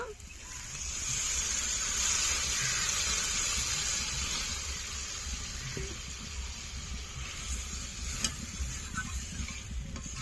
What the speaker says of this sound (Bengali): এখন জল দিয়ে দেব আর মশলা থেকেও তেল ছেড়ে দিয়ে দেবো গরম জল দিয়ে দেব